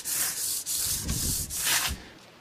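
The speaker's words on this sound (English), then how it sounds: "And this is dry sandpaper, by the way, I'm not using wet." Dry sandpaper rubbed back and forth over the frets of a vintage Gibson SG guitar, a close, steady rasping in several long strokes separated by brief pauses, with no talking.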